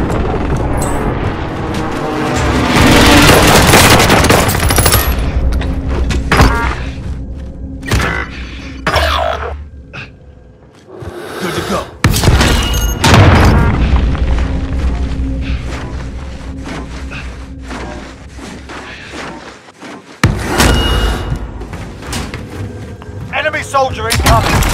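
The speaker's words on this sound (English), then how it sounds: "Be advised, friendly precision airstrike inbound." Precision airstrike explosions in the Call of Duty: Modern Warfare video game, heavy booms and rumbling blasts rolling on for many seconds, with game voices breaking in at points.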